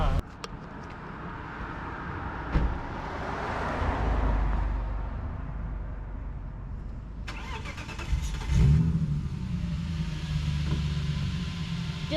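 A BMW E28 rally car engine runs through a cold-weather test drive, a steady mid-pitched drone with a louder rev swell partway, while people talk nearby.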